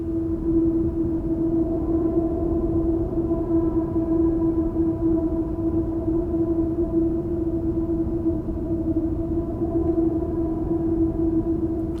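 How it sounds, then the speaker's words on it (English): A subtle sampled wind effect from the Contact library holds a steady, sustained tonal whoosh with a faint whistling pitch, unbroken and even for the whole stretch, with no voices. "So this is the wind sound"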